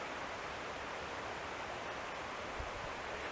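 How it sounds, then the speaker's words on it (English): Hughes River rushing below a trail in Nicholson Hollow, Shenandoah National Park: a steady, broadband water hiss from a fast-flowing stream, heard from a distance and unbroken, with no voices. "maybe you can hear it, but the Hughes River's right down there"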